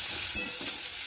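Chopped onion sizzles in a hot pan, a steady bright hiss with light scraping from stirring, close and continuous, with no voices.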